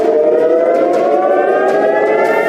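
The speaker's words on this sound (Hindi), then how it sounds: "रविवार तड़के 6:30 बजे इजराइल में सायरन बजने लगे" Civil defense air raid sirens wailing in Israel during a missile alert, a loud continuous tonal blare with layered pitches sustained throughout, heard alone with no voices.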